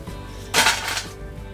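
Crisp crunch of fried kumbhaniya bhajiya, Gujarati fritters made at home, a single sharp close bite or break lasting about half a second against quiet background.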